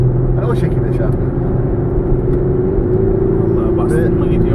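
An Audi SQ5 quattro SUV with a 3.0-litre V6 mild-hybrid diesel pulls hard, its engine drone steady and gradually rising in pitch, heard from inside the cabin.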